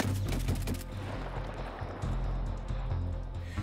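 Bursts of rapid gunfire from a Mark 18 Alpha rifle in Escape from Tarkov, a loud quick string of shots at the start followed by scattered sharper cracks and echoing reports.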